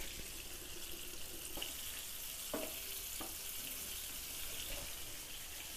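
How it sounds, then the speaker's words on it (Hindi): Fish shallow-fries in oil in a pan with a faint, steady crackling hiss. A few soft pops and clicks stand out briefly in the middle. "तो जो मछली है वो हमारी यहाँ पे अच्छे से फ्राई हो रही है"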